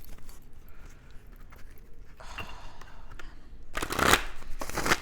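Tarot cards being shuffled close by, soft riffling and sliding at first and then a louder, crisper burst of flicking cards toward the end, with no talking.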